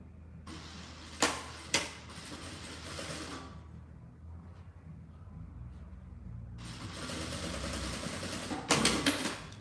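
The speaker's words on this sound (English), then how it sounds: "now when I sew this, I'm going to sew this all around the top" A sewing machine stitches around the top of a fabric squeeze pouch, running in two long close bursts of motor whir with a quiet pause between them and a few sharp clicks.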